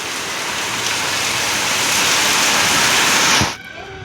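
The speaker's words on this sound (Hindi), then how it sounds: "ये देखो तो ये आधी तूफान वाली बारिश आ गई" Heavy, stormy rain pours down in a loud, dense, unbroken roar close by, then cuts off sharply near the end, leaving quieter background noise.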